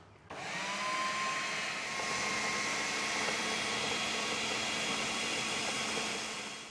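A countertop blender grinds peanuts into peanut butter with a loud, steady, close motor whir that starts abruptly and holds constant for several seconds, with no one speaking.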